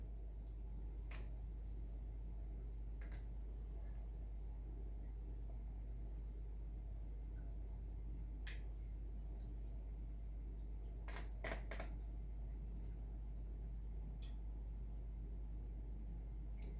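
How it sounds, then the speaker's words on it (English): A Harvest Right freeze dryer hums as it cools down before food goes in. The drone is low and steady, with a few faint clicks and knocks nearby. "I got the freeze dryer going."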